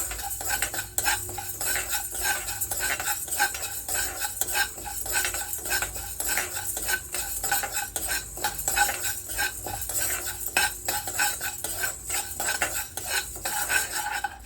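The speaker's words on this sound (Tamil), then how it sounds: "கொஞ்சம் வெந்தயத்தையும் சேர்க்கணும் அதையும் நல்லா அந்த வாசம் வர வரைக்கும் நம்ம நல்லா வறுத்து வச்சுப்போம்" A spoon stirs fenugreek seeds roasting in a pan, giving repeated close metallic scrapes and clinks in a steady rhythm over a faint sizzle, with no voices.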